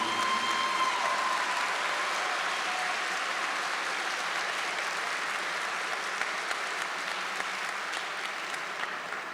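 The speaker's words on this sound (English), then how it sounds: "Let's give a round of applause for our mothers." A graduation ceremony crowd at Krannert Hall applauds mothers, a broad, even roar of clapping heard from a distance, steady and unbroken for the whole stretch.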